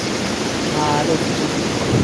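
Strong typhoon wind from Typhoon Uwan in Camarines Sur, Bicol, under signal number 5, roaring close against the microphone as a dense, unbroken rush with faint voices buried in it.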